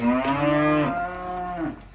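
A cow moos once, a long, loud, close low call lasting about two seconds that rises slightly and then trails off.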